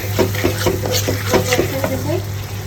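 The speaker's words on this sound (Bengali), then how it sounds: "একটু পানি দিয়ে দিই, সুন্দর করে কষাই।" Fish curry (bhuna) is stirred in a frying pan, a spatula scraping in a regular rhythm over a loud, close sizzle of oil and spices.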